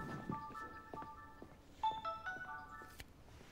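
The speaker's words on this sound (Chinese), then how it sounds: "我接电话去了。" A telephone rings with a short electronic melody of steady, repeated beeping tones, fairly close and moderately loud, with no voices.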